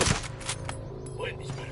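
Gunfire in the video game Ghost Recon Breakpoint, a quick burst of shots at the start followed by a few more sharp reports against game sound and voices.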